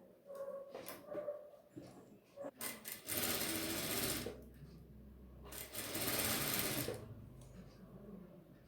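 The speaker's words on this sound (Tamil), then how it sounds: "எலாஸ்டிக் இந்த மாதிரி இழுத்து கிளாத்தில் இப்படி வச்சு ஸ்டிச் பண்ணிக்கிறேன்" A sewing machine stitches stretched elastic onto fabric for a classic brief, running in two close, rattling bursts of about a second each, separated by quiet handling clicks and fabric rustles.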